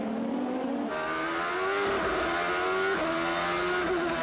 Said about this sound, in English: Very hard braking up in that Druids hairpin, and right as you get to the top, the road flattens out, and so the front wheels try to lock